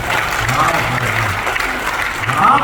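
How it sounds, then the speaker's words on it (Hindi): Audience applause at a Hindi comedy poetry gathering, a dense steady roar of clapping from a large crowd, with a voice speaking faintly underneath. "आपके इन दो पंक्तियों पर ताली दी है ना"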